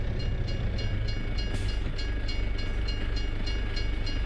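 A train rumbling steadily past in Farming Simulator 22, a continuous heavy roll with rhythmic wheel clicks over rail joints, loud and close, with no talk over it.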